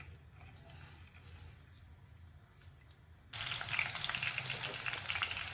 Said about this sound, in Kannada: ಈಗ ಆನಿಯನ್ ಫ್ರೈ ಮಾಡೋಣ್ರಿ.